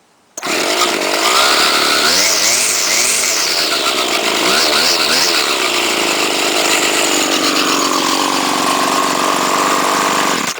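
A Homelite XT600 gas string trimmer, freshly carb-serviced, starts up and runs loud and close, its two-stroke engine buzzing steadily with two short revving surges before settling into a continuous high whine.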